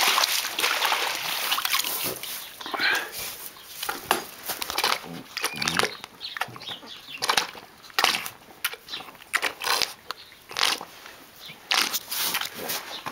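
A calf in rehabilitation slurps and splashes at water, with repeated wet lapping and sloshing bursts close by, loud and irregular throughout with no talk.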